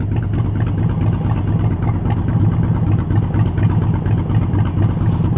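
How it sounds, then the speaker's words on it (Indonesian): A Harley-Davidson Sportster 48 engine with a Vance & Hines short exhaust idles loud and close, a deep, steady, lumpy rumble that stays even throughout. "Dan suaranya Harley-nya itu yang kita bilang mahal."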